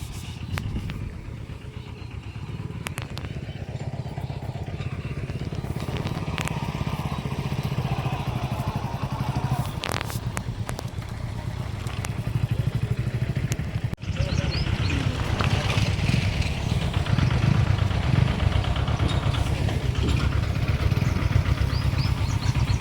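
A tractor engine chugs steadily, loud and close, hauling a load of cattle fodder on a farm, growing rougher in the second half, with scattered clanks and a voice now and then.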